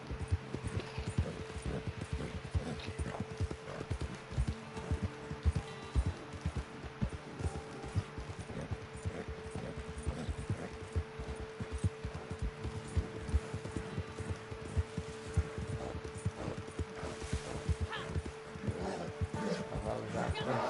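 Horse hooves clip-clop in rapid, even rhythm through Red Dead Redemption 2 gameplay, a tired horse running at a moderate distance, fairly faint with a steady game hum and background sounds beneath.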